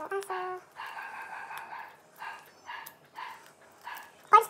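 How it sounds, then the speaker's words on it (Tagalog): A dog barks several times in short bursts, fairly close, with brief pauses between barks and a sharper yelp at the end. "Ayan ang aso."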